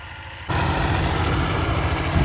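The small engine of a Thai rice seeding machine working a paddy field starts up suddenly and runs at a steady, rough, buzzing drone, loud and close.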